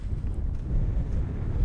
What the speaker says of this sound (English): huge headwind. I mean, probably 10, 15 miles an hour